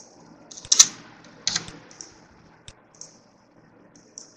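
Scattered key presses on a computer keyboard while entering data into Microsoft Office Access, with sharp clicks in small bursts and pauses, quiet and close, with no talk.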